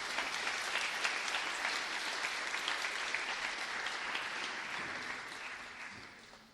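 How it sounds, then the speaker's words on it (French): A hall audience applauds a schoolchild from a communal school in Liège at an Armistice Day commemoration: steady, dense clapping that holds for several seconds, then thins out and fades toward the end. "Je demande de l'applaudir"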